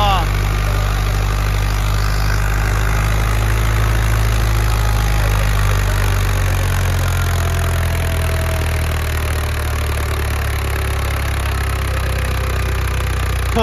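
A tractor engine idles steadily at close range on a farm, a continuous low rumble with a faint knocking texture throughout, while background voices murmur over it.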